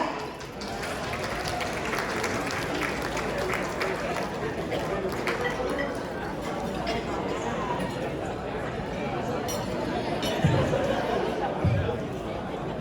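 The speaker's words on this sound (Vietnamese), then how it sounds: "Xin quý vị cho anh Stephen Williams một tràng pháo tay ạ" At an evening community council event, an audience applauds a speaker being called to the stage, giving moderate, steady clapping with chatter and talk mixed in throughout.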